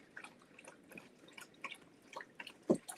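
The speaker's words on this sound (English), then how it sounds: "Enjoy my dog drinking water." A dog laps water from a bowl in a basement, with faint, irregular wet drips and slurps at low volume.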